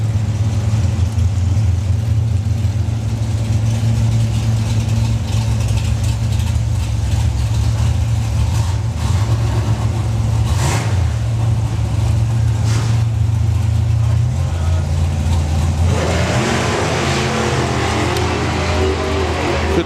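Drag racing cars at a national finals event, a loud, steady low engine drone held on a throttle stop, then the pitch shifts upward as the engines charge toward the top end.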